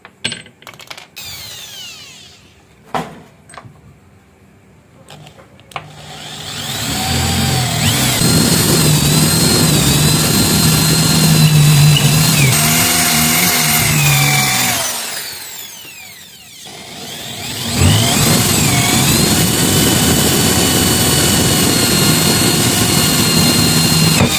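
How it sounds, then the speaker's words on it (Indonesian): After a few clicks and taps, a power drill whirs at length boring holes in wood, stops briefly, then spins up again, loud and close. "ini nanti kita bor, kita tanam bautnya di sini dan di sini ya"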